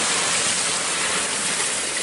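Water splashes and churns as a blindfolded man is dunked, a loud, steady rush of noise running unbroken for the whole stretch.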